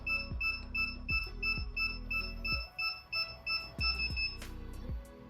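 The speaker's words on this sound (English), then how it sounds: "And they stop beeping." Rapid high-pitched electronic beeps from an iFlight Protek35 HD quadcopter in pairing mode repeat in quick bursts, with short pauses and a few faint thuds underneath.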